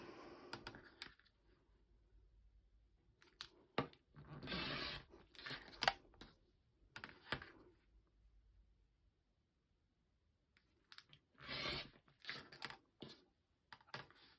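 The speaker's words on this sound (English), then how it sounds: "And then I'll just keep cutting down my triangle." Fabric is cut into strips for bias tape with scissors: quiet, intermittent snipping and crisp cutting noises come in short bursts separated by pauses, close and soft.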